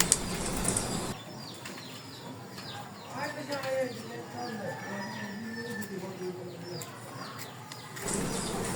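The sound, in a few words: pair of Sirazi pigeons in a cage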